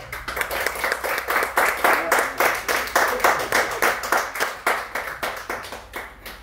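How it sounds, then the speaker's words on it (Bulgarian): Audience clapping at the opening of the fourth National Plein-Air Painting Festival in Dryanovo, a steady, fairly even round of applause with distinct rhythmic hand claps throughout, close and moderately loud. "Аплодисменти за Антон!"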